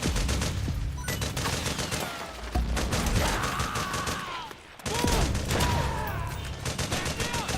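Dense, continuous gunfire fills a Metal Gear Solid 4 firefight, rapid bursts and volleys crackling nonstop for several seconds with a brief lull near the middle, while soldiers' shouts ring out over the shooting.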